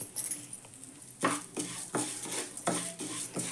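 Dry wheat flour being stirred and roasted in a pan, a spoon scraping and rubbing against the metal in uneven strokes over a soft background hiss, close and moderately loud, without speech.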